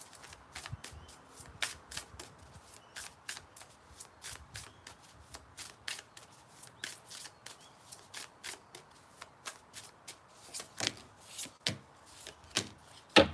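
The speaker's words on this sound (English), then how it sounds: "You see me shuffle, you see how many in the deck" A deck of tarot cards is shuffled by hand during a star-sign reading, a close series of crisp, riffling snaps repeating at an uneven rhythm and growing louder toward the end.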